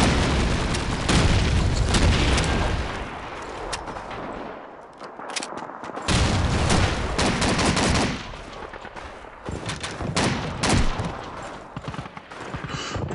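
Grenade explosions and bursts of gunfire from a building assault in the video game Call of Duty 2, with loud dense volleys, heavy booms and a brief lull midway before firing resumes.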